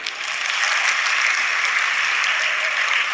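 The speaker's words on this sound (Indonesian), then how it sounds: "Tepuk tangan untuk NU." Steady applause from a crowd at a religious talk, continuous dense clapping throughout at an even, fairly loud level.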